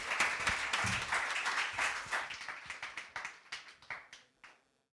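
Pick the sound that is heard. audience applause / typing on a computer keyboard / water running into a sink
audience applause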